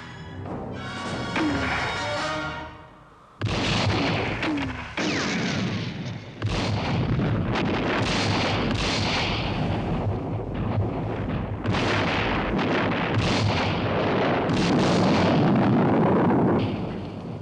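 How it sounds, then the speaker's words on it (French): Mortar fire striking a mine in a 1969 Gregory Peck war film, a chain of loud, close, roaring explosions with rumbling debris after a brief lull, sustained blasts for over ten seconds. "Shelby, notre tir de mortier a touché leur mine."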